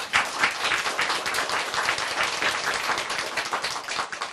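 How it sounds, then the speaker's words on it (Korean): A lecture audience at a Korean folklore talk claps on cue, loud and close. The dense, continuous clapping keeps a fairly even intensity throughout, with no speech over it. "박수나 쳐."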